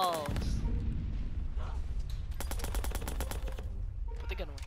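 Rapid bursts of paintball gun fire from the video game Watch Dogs 2, crackling in quick volleys over a constant low rumble, with a voice shouting over the shots.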